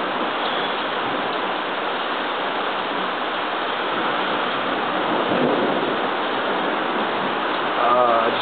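Thunder rumbling through a storm, heard as a loud, steady, broadband roar mixed with rain, continuous and close, with no clear separate claps.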